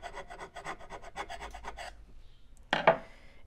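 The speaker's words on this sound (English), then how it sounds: "scraping away at the chassis a little bit, because this will make the solder stick a little bit better" Scraping across a metal 1958 Gibson GA-20 amplifier chassis in a crosshatch pattern to prepare it for solder, a series of quick rasping strokes up close, followed by a louder burst of scraping near the end.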